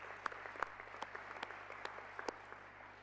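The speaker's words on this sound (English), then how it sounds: "could we give him a round of applause? Mayor Arnaldo Samaniego" An audience applauds the mayor at a peace convention, a faint, sparse patter of claps with a few sharper individual hand claps standing out, steady for a few seconds.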